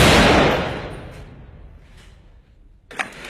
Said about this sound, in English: We just shot fired, so we expect a counter attack to us.